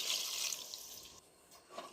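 Water pouring into a pot of mutton curry (mutton kulambu), a hissing splash strongest at the start, then thinning and briefly fading before trickling again, close and alone without speech.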